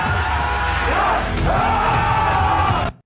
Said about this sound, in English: A lot of screaming. Just a lot of naked dudes and screaming.